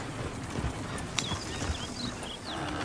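Horse hooves clip-clop steadily at a walking pace in Red Dead Redemption 2, close and clear over a low outdoor ambience with faint background sounds.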